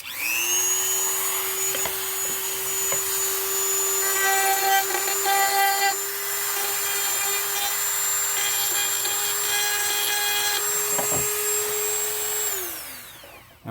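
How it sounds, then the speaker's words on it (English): A Dremel rotary tool with a carving bit shapes f-holes in wood, its high steady whine running close and loud for about thirteen seconds, with the pitch wavering slightly under load before it spins down. "Or if you have a Dremel,"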